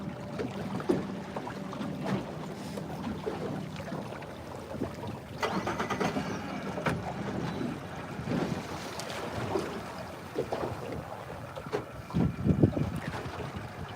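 A fishing boat cruising under engine power gives a steady, rumbling drone for the whole stretch, mixed with wind and water wash and occasional knocks, with no voices.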